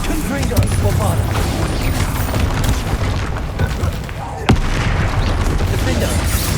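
Spell explosions from Confringo and Bombarda in the Hogwarts Legacy video game, dense booming blasts and rumbling bursts with a sharp crack near the end, loud and continuous amid game effects.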